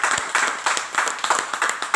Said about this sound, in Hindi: तो मैं चाहूंगा एक जोरदार ताली